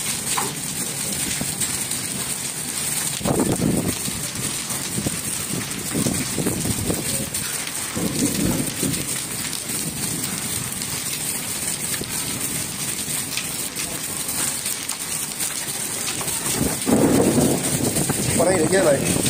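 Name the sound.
heavy rain with thunder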